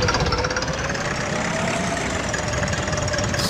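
Farm tractor engine in the video game Agricultural Simulator 2013, a steady rumbling, knocking drone that stays loud and even with no breaks or talking.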